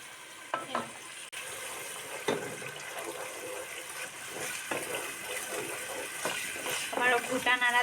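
Biryani masala with tomato sauce sautéing and being stirred in a pan for chicken biryani, a steady sizzle with spoon scrapes throughout and louder stirring clatter near the end; a voice talks faintly at times.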